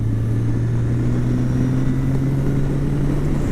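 A Kawasaki Concours ZG1000 sport touring motorcycle cruises a straightaway, its engine holding a steady, smooth hum with a low drone and constant rumble of road and wind, with no change in pace.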